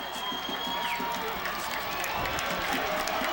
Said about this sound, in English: the Grand Rapids Christian sideline's getting pretty rowdy